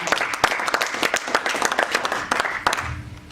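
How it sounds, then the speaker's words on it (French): A church congregation claps together in a steady, lively rhythm, the crowded applause filling the room and fading out toward the end. "Can you clap?"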